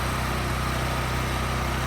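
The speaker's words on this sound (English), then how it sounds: "let me turn off the generator and stuff" Portable generator drones steadily and loudly throughout, powering a stick welder at an outdoor welding test, with no voices.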